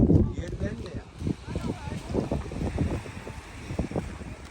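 Gusty wind buffets the microphone in rough bursts while people talk underneath, with an open, outdoor feel at the seaside in Filyos, Turkey.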